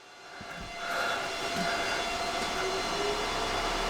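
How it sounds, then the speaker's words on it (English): A large 24-inch exhaust fan spins up to a steady, broad whooshing drone with a faint hum, rising over the first second then holding constant. "as this is a bigger 24-inch fan, it doesn't seem too bad"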